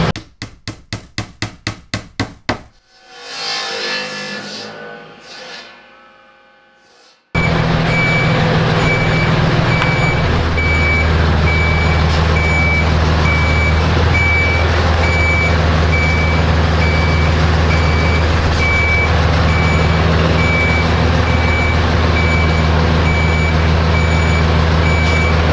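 A truck delivering long roof beams gives a run of rapid, evenly spaced reversing beeps, followed by a sweeping mechanical whine and then a loud, constant engine drone with a high electronic tone.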